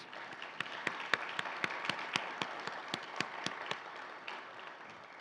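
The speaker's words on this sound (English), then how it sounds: "Please join me in giving them another round of applause for our three contributors" A small audience at a college Veterans Day event claps for contributors, sparse individual claps ringing out distinctly, fairly quiet and somewhat distant, thinning out by the end.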